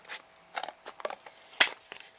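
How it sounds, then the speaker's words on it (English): Scissors snip through a 6x6 piece of chipboard while making Christmas decorations, giving several short, crisp cuts spaced irregularly, close and fairly quiet, with one sharper louder snip near the end. "let me just make sure my scissors are on"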